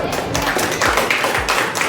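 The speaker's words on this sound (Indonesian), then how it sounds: "Tepuk tangan dulu" Classroom applause from a group of primary school pupils, a steady patter of many clapping hands close by, with a voice or two murmuring underneath.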